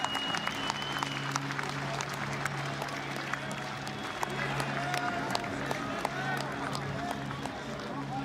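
Applause from the crowd at a UTMA 11 fight event sends off fighter Jimmy Livinus after his bout, steady clapping throughout with a commentator talking over it.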